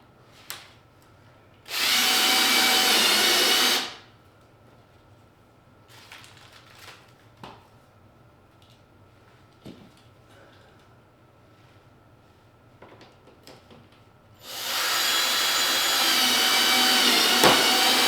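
A power drill drives screws into plastic side-skirt trim on a Tesla Model 3 Highland, two loud whirring bursts of a few seconds each, with quieter handling clicks and knocks between them.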